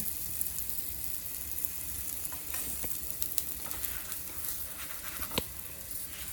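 Aloo paratha frying in oil on a pan, a close, continuous crackling sizzle with scattered small pops throughout and no voices.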